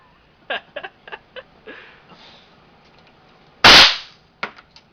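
Smith & Wesson 500 Magnum revolver fired once, a loud close blast with a quick tail, preceded by several short clicks and faint voices, with more small clicks afterward.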